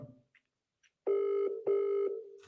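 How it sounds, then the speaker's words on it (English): Outgoing phone call ringing while waiting for someone to pick up: two long, steady ringback tones with a short gap between them, clear and alone after near silence. "Pick up your phone, Matisse"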